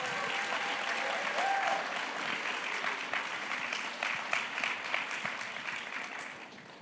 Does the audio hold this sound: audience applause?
yes